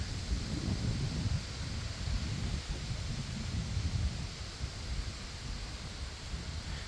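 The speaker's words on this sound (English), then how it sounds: "The wind picked up all of a sudden" Wind gusts outdoors beside a broken-down 2000 Chrysler Grand Voyager SE, a steady rushing buffet on the microphone, low and fairly loud, with no voices.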